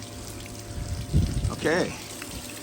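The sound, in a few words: water pumped through hose on highbanker recirculating setup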